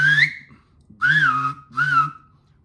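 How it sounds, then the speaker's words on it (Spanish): A person whistles three short, close notes with pauses between, each clear and bright with slight pitch slides, no talking. "Por cierto, este chiflido"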